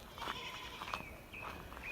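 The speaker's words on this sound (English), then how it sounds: "That motherfucker goat, look here." A goat in Jamaica bleats faintly amid outdoor ambience, with a few thin wavering calls over low background noise.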